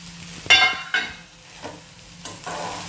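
Chopped garlic and green chillies sautéed in a pan, soft sizzling with a few sharp scraping stirs of a spoon against the pan, close and alone.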